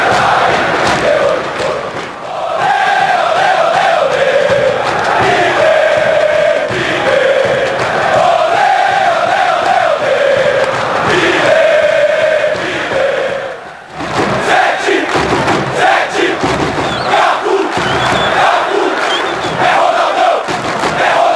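A São Paulo football crowd at the stadium chants and roars in hostile protest against the goalkeeper during a derby against Palmeiras, a dense, loud mass of voices rising in sustained waves with a brief lull midway.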